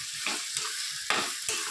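Shark puttu (sora pittu) fries in oil with a continuous close sizzle, broken by several scraping strokes of a spatula stirring the pan.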